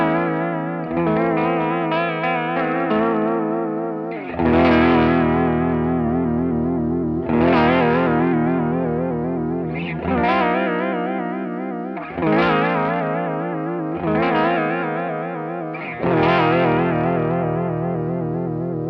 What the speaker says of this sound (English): So we're turning up the depth here, and we will get in a more warped vinyl,